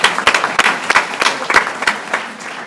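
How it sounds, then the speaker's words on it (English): Audience applause at a school board meeting for Milwaukee Public Schools, a fairly sparse round of clapping with distinct individual claps, tapering off toward the end. "let's give these people a round of applause"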